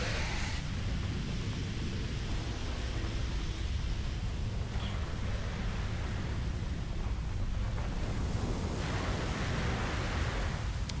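Rough sea in the horror video game Cold Fear, a steady dense rush of churning water and wind-like noise that holds at an even level throughout, with no speech.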